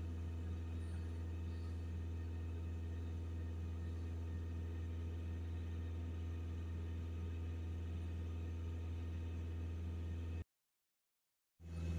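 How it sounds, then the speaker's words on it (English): Skoda Octavia 2.0 TDI diesel engine held at steady raised revs during a particulate filter regeneration, a constant close droning hum with no speech, cutting out briefly near the end. "Just holding some revs on it to get the DPF pressure down."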